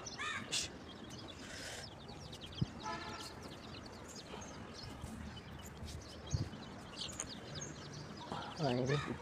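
Several crows caw in short harsh bursts at a distance, scattered over a background of outdoor noise and someone talking.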